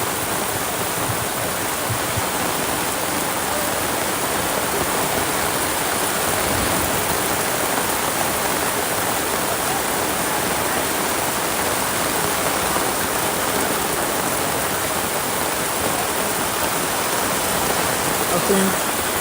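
Heavy rain pouring down steadily during a football match between Brave FA International and Power Rangers FA, a dense, unbroken hiss filling the whole scene with faint murmurs underneath.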